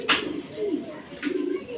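Pigeons coo in low, throaty warbles, two rolling calls close by, with a faint rustle in the background.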